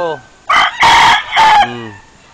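A pure white Texas gamecock rooster at a game farm in Liliw, Laguna, Philippines crows once, loud and close, in a full cock-a-doodle-doo with short clucks before and after.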